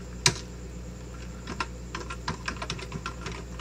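Someone types a password on a computer keyboard at a Linux terminal: one sharp keystroke, then a quick uneven run of soft, close key taps with no talk.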